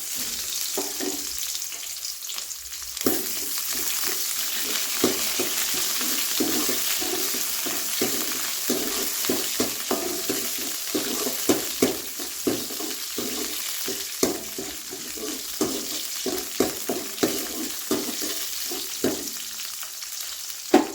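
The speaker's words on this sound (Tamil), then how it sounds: "ஒரு 4 சின்ன வெங்காயம் கருவேப்பிலை அதையும் போட்டுக்கலாம்." Small shallots and curry leaves fry in a pan for a Kongunadu-style potato curry, with a continuous close sizzle broken by frequent stirring clicks and scrapes, and no voices.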